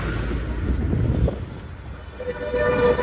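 A Bengaluru–Belagavi passenger train rolls past with a rumbling low roar that fades midway, followed by a sustained tonal horn blast near the end, heard close at a busy station.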